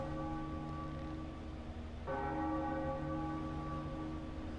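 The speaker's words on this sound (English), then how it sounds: "Gotta ring the bell." A bell rings in The Legend of Zelda: The Wind Waker HD, a sustained tonal chime that swells with a fresh bright strike midway and rings on steadily, with no talking.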